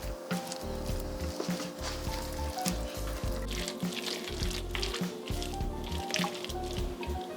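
Creamy sauce being stirred into ham and broccoli casserole ingredients in a bowl, giving wet squelching and squishing pulses in a loose rhythm, close up, over a low background hum.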